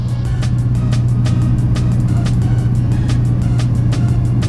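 A small training aircraft's piston engine drones in a steady, loud hum after being throttled back to 1800 RPM, with regular propeller pulses beating evenly throughout.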